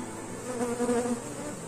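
A honey bee swarm buzzes around hive boxes in a steady, close hum that swells briefly in the middle and then settles, with no voices.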